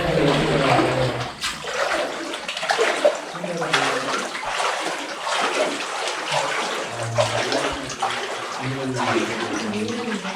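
Flowing water runs steadily inside a hidden Shiva cave temple, a continuous broadband rush and splash that fills the space, with voices talking intermittently over it.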